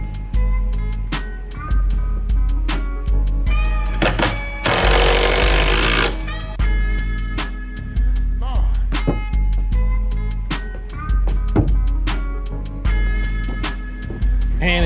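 A cordless power drill driving screws into a wooden deck, tightening a 2x4 to close a gap, with loud repeated motor whirring bursts that start and stop rhythmically, and one harsher sustained whine in the middle.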